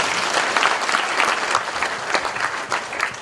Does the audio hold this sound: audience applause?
yes